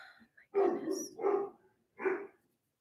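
A dog barks three times nearby, loud and clear, with a brief quiet yip before the first bark and short pauses between barks.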